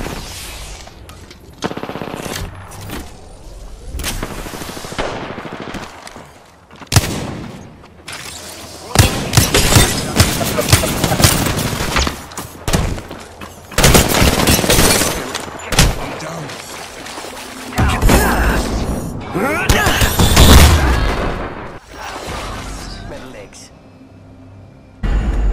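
Rapid bursts of automatic gunfire and single shots in a chaotic Apex Legends firefight against bots, loud and close, with excited players talking over the shooting.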